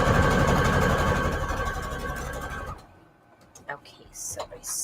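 Sewing machine stitching through an index card, a loud steady mechanical whir for the first few seconds that stops abruptly, followed by quieter handling noises and faint talk.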